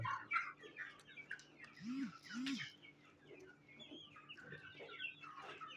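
Desi chickens on a farm in winter sun give soft repeated clucks, two rounded low calls standing out midway, with scattered higher chirps from other birds around at a quiet level.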